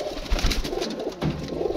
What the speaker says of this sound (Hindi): हाँ ये कबूतर है